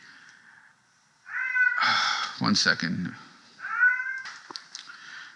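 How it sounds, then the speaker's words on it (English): A cat meows in the background indoors, several drawn-out cries in a row, with a person speaking briefly between them. "You might hear the cat in the background."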